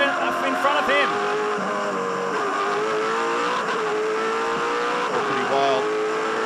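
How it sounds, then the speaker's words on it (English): V8 Supercars race cars from the 2006 championship roar around the Perth 400 circuit, engines howling loud and continuous with rising and falling pitch as they shift gears, with a commentator's voice running over the top. "Pretty wild view from Stephen Richards' car, and he got monstered in that process as well."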